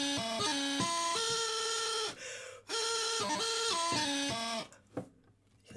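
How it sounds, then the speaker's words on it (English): A bagpipe practice chanter with no hemp on its joint plays a quick melody of bright, reedy, slightly squawky notes, close and alone, with brief gaps and a ragged trailing end. "Without hemp, this is what it sounds like."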